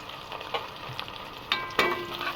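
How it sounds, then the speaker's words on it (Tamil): Ginger garlic paste frying in a pan for chicken biryani, a soft continuous sizzle with a few sharper stirring scrapes, moderately close and alone. "இப்போ வந்து இஞ்சி பூண்டு பேஸ்ட்டு போட்டுக்கலாம்."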